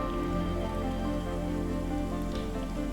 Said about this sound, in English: More rain on an undomed Mars.